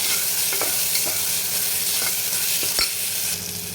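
A coarse paste of green chili, ginger, garlic and coriander hits a hot pan, giving a loud, steady sizzle and fry with a few stirring knocks.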